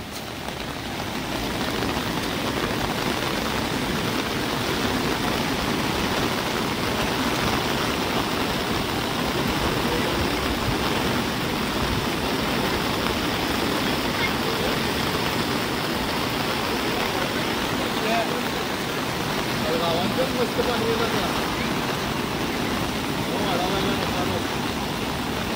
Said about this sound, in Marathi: आणि पाहू शकताय किती पूर आलेला आहे तो नदीला